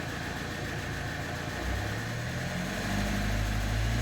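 Opel Vectra C with the Z19DTH diesel engine, freshly reassembled after a no-start fault, running steadily up close with a droning idle that rises slightly in pitch partway through, no talk.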